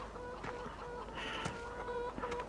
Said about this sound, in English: So we'll pop in and say hello to the chickens.